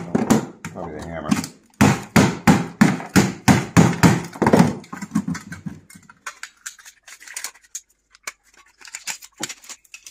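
A hammer pounding scrap sterling silver, a run of about a dozen sharp, evenly spaced metallic blows, loud and close, followed by quieter scattered taps and handling clinks.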